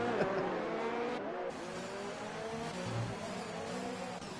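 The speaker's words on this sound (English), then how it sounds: "Love the desync downshifts too from this game." Engine of an F1 car in a racing video game during the Mexican Grand Prix, a continuous close whine with a brief dip around a downshift, steady and fairly loud with no talk over it.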